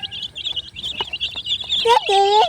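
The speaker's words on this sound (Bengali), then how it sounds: "দেখেন কি সুন্দর পাহাড়ি মুরগি" Hill-country desi chickens in a coop give chirps and short clucks, ending in a louder drawn-out call, heard close with someone talking over them.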